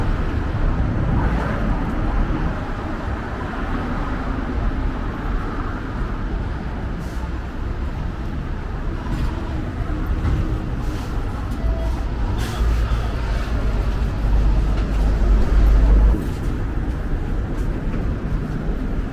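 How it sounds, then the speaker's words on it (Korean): A Hong Kong tram arrives amid a constant street roar, with a low rumble swelling toward the end. Faint clanks and hisses sound over the steady traffic noise. "트램이 오고 있어요."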